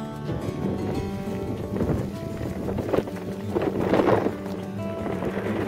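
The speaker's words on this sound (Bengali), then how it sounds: "যেরকম বৃষ্টি হচ্ছে সেরকম ঝোড়ো হাওয়া দিচ্ছে।" Stormy wind with rain at Gangasagar, gusty roaring wind buffeting the microphone with swells and a low rumbling background, steady throughout.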